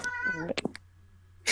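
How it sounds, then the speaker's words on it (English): A cat meows a few times close by, with a short spoken word and other brief sounds in between. "That was my cat."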